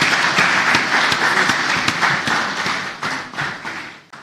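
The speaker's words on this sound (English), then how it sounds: "I would like us to give a round of applause for all of us for being here today" A conference audience at an insurance technology event claps in a dense, loud burst that thins toward the end, with individual claps growing more distinct as the applause fades out.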